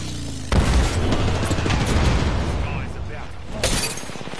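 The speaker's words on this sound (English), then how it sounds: "Opening fire." Rapid bursts of video game gunfire crackle loudly through a firefight, with an excited voice talking over the shooting.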